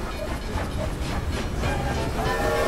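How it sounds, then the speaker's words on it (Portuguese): A train rumbles past directly overhead in the Western video game Red Dead Redemption 2, a loud, steady roar with hiss and rhythmic clatter that fills the whole moment. "O trem passando em cima de você."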